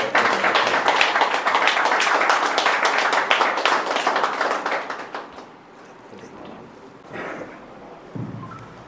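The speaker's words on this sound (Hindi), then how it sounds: "त्यागी जी का एक बार दो जोरदार तालियों से" An audience at a cultural gathering claps loudly for Tyagi ji: dense, energetic applause that tapers off after about five seconds, followed by quieter room noise and brief sounds.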